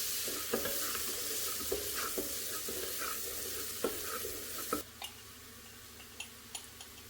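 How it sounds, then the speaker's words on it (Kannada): Finely chopped onion fries with ginger and garlic in a pan, giving a continuous sizzle broken by sharp scraping taps from a stirring spoon. No voice is heard. "ಈಗ ಶುಂಠಿ ಮತ್ತು ಬೆಳ್ಳುಳ್ಳಿ ಸ್ವಲ್ಪ ಫ್ರೈ ಆದ ನಂತರ 1 ಈರುಳ್ಳಿನ ಸಣ್ಣಗೆ ಹೆಚ್ಚಿಟ್ಕೊಂಡಿದ್ದನ್ನು ಹಾಕ್ತಾ ಇದ್ದೀನಿ."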